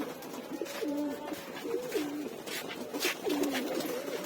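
Pigeons kept in a Bangladeshi home loft coo repeatedly in soft, rolling calls, several birds overlapping at close range against faint background noise, with no speech.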